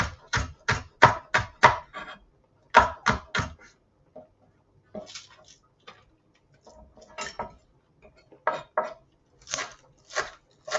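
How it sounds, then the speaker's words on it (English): Green onions are chopped on a cutting board with a knife, giving close, crisp taps in quick bursts of several strokes and short pauses between them, heard alone. "I'm going to cut some green onions"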